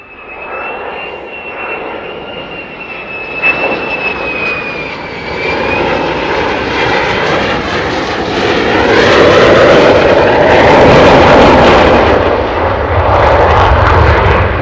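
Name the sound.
fighter jet engine, throttle burst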